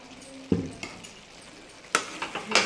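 Ridge gourd curry seasoned with turmeric and chili powder is stirred in a pan: several distinct spoon scrapes and knocks against the metal, close and fairly loud, over a soft sizzle.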